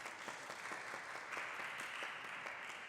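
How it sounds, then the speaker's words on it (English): Steady applause from the congregation at a parish vestry meeting in St Paul's Church, Covent Garden, quiet and distant, dense clapping sustained for a few seconds with no voices over it. "Round of applause for them, please."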